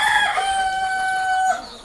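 Parent chickens on a farm in the afternoon, with a loud drawn-out call resembling a crow or cluck ringing steadily for about a second and a half before fading, close by and with no talking.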